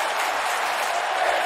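Arena crowd in WWE 2K19 clapping together after a near-fall during an AEW Universe Mode match, a steady even wash of applause with no voices over it.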